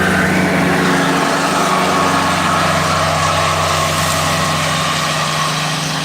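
A tractor with its front loader attached drones steadily and loudly while mowing, a constant low rumble with no breaks or speech.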